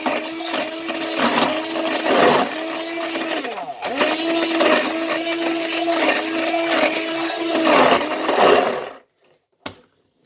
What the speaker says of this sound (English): this is my hand blender